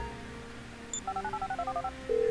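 A phone dials a detonation code in GTA V: a short beep, then a quick run of about nine rhythmic keypad tones, ending in a steady held tone over quiet game ambience.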